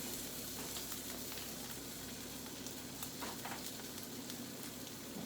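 Egg cooking in a pan for a keto breakfast, a steady close sizzle and fry hiss running throughout with no talking.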